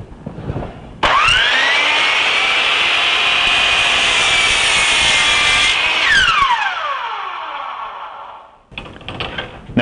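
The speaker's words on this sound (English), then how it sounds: "now I'm going to go ahead and make my cuts." A power saw cuts wooden boards for a wall shelf. It spins up to a loud, steady whine, holds through the cut for about five seconds, then winds down, with brief shop clatter before and after.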